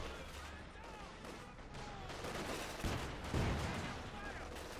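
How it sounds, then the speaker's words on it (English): Katyusha rocket artillery barrage in Company of Heroes 2, a dense rolling series of launches and impacts with heavy low booms swelling midway, under steady game-battle noise. "Katyusha rockets out there for Desman."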